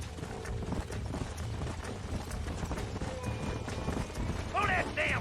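Horses gallop in the video game Red Dead Redemption, with continuous hoofbeats and rough commotion, a whinny near the end and voices heard intermittently.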